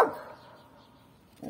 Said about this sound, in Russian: Собачка. Собачка маленькая.